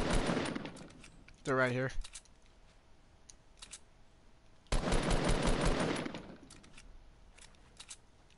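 Rapid bursts of gunfire ring out in a PS4 shooter while the player is sniped at, with two loud volleys separated by scattered single shots and a voice speaking briefly.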